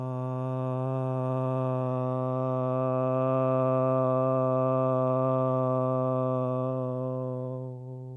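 A single sustained chanted Om opens an evening yoga session, one steady, resonant voiced drone held for several seconds before tapering off at the end, with no other talk.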